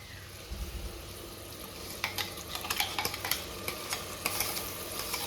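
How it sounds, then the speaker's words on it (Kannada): Masala paste fries with sweet corn in a pan for pulao, a soft steady sizzle broken by quiet scraping stirs that grow busier partway through, with no voices. "ಈ ಪೇಸ್ಟನ್ನು ಹಾಕಿ ಹಸಿ ಸ್ಮೆಲ್ ಹೋಗೋವರೆಗೂ ಇವಾಗ ಫ್ರೈ ಮಾಡಬೇಕು."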